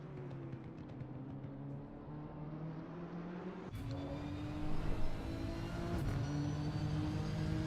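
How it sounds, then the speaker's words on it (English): A Nissan race car in Assetto Corsa Competizione at Bathurst gives off a sustained, high turbo whine over a steady engine drone. A sharp tonal shift comes partway through, and the sound is continuous with no voices. "As you hear that absolute whine from the turbos on that Nissan"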